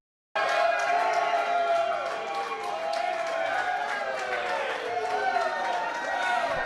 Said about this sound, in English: we're hearing a little bit more cheering here